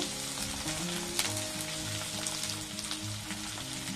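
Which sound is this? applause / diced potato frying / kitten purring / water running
diced potato frying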